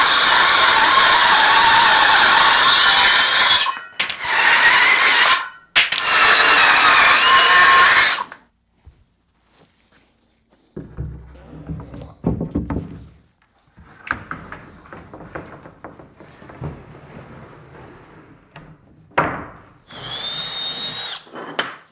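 A power drill whines loudly in long bursts while driving 2-inch construction screws into pre-drilled steel, followed by quieter clunks and handling noises of the work, with no talking.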